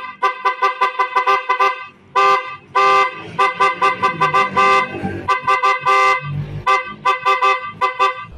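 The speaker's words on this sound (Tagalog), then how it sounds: "So heto yung normal na tunog ng busina" A stock car horn honks in repeated loud bursts, some short and some held longer, with brief pauses between them and close by.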